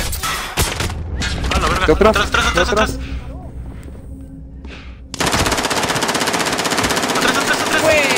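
Rapid automatic gunfire in a video game, a short burst early on, then a long, loud, sustained stream of shots near the end, with excited shouting from a player over it.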